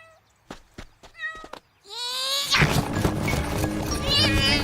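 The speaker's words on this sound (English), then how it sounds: "Sticks, could you get that kitten out of the tree?" Cartoon kitten meowing in a high, wavering cry, a few short mews then a longer rising one, followed by a loud burst of chaotic scrambling noise.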